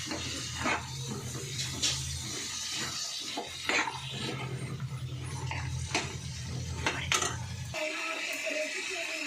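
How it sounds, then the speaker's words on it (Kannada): A glass of water is poured into a pan of fresh green chickpeas, a soft continuous splashing and trickling that runs steadily close by and then stops abruptly near the end. "ಆಮೇಲೆ ಒಂದು ಗ್ಲಾಸ್ ನೀರು ಹಾಕಬೇಕು."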